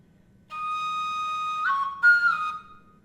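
Javanese suling flute plays a short slendro intro melody variation: a clear sustained breathy tone that steps down, pauses briefly, then rises again before fading, alone over faint background hiss.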